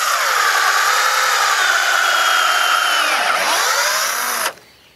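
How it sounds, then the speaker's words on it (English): A power drill with a quarter-inch bit bores into an Albizia tree trunk, a loud continuous high whine that dips in pitch under load and then cuts off abruptly near the end. "We're also going to try with the drill, and we're using a JK injection system that is self-contained."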